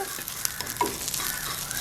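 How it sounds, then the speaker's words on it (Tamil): Cumin seeds crackling and sizzling in hot oil, close and continuous, with a few sharp pops. "இப்போ சின்ன சீரகம் போட்டு நான் கொஞ்சம் தாளிக்கிறதுக்கு"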